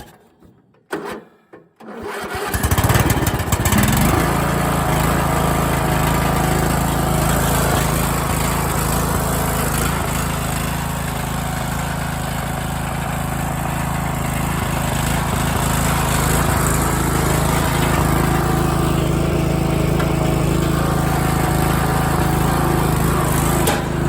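A cheap lawn tractor engine sputters briefly on starting, then settles into a loud, steady running drone with a constant hum that holds without dropping to idle.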